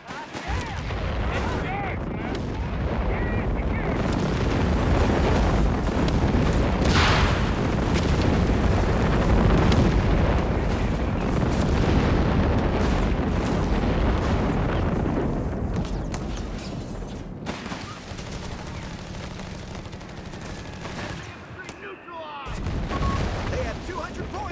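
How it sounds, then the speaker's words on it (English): An artillery barrage hammers the battlefield in Company of Heroes 3, a dense, continuous roar of booming shell impacts and gunfire that runs for over fifteen seconds and then thins out. Shouted unit voice lines cut in over the barrage. "Artillery barrage underway!"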